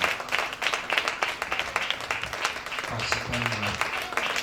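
Congregation clapping and applauding in praise of God during a fasting and prayer church service, dense broadband claps sustained throughout with voices and some tonal sound mixed in.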